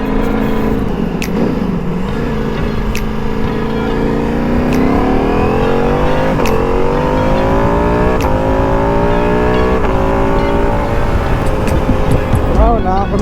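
A Ducati Multistrada motorcycle engine revs on a ride up toward Lee Canyon, its pitch repeatedly climbing and dropping loud and close throughout, with wind noise and a voice talking over it.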